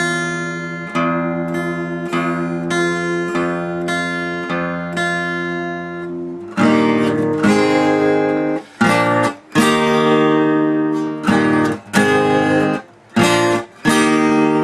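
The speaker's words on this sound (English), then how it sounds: "when you're tuning it back, you're going to tighten your string" A plucked guitar string rings out repeatedly, its pitch rising in steps as it is tightened back up toward E, with a few brief gaps between the strokes.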